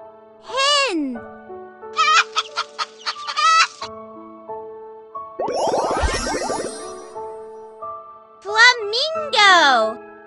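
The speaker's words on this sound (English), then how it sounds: "Hen." Clucking hen calls come in bursts with quick repeated notes and a louder squawking flurry in the middle, close and clear.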